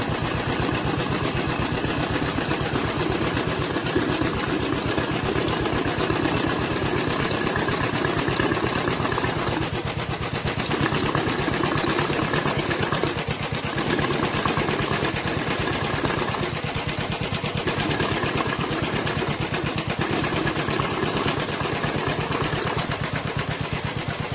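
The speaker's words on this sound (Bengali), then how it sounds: "তাহলে আমরা গাড়িটাকে স্টার্ট করে আর অ্যাডজাস্ট করার চেষ্টা করবো ওপর থেকে।" A Royal Enfield Bullet engine under repair for a tapping noise idles steadily and loudly up close, its rapid mechanical clatter and ticking continuous throughout with no talking.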